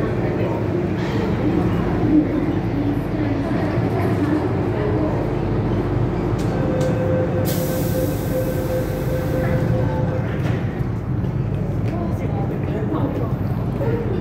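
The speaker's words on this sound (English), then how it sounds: "we'll just sit down and wait for this train to leave" A metro train pulls out of Sai Wan Ho station in Hong Kong, a steady loud rumble of cars on rails filling the platform, with a brief high whine midway and people talking in the background.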